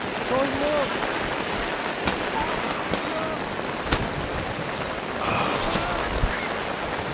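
Rain falls steadily during an outdoor under-15 youth soccer match, a continuous hiss of drops on surfaces with scattered sharper taps, heard throughout with a few faint background sounds.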